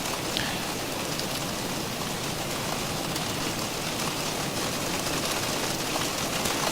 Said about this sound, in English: We're getting slammed. How about we go to the 3D rain?